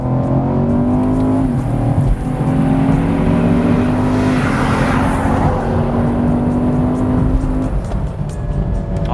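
A 2018 Chevrolet Camaro SS engine revs up and holds a loud, steady roar, rising in pitch midway before settling, close and continuous throughout.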